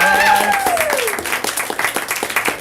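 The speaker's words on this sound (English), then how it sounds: "And to my co-host here, give a round of applause." Audience applause for a co-host at a young playwrights' showcase night, a burst of clapping that starts over a brief voice and tone, then continues as scattered, fairly close claps.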